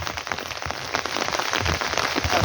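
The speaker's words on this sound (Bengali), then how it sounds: "এই বৃষ্টির মধ্যে" Steady rain pours onto surfaces outdoors, a dense, continuous hiss with scattered heavier drops, loud and close, no voices.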